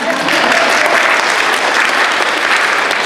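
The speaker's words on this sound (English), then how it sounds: "Can we hear a little bit more applause" An audience at a live channeling event in Victoria claps loudly and continuously, a dense wash of many hands close and full throughout, with no speech over it.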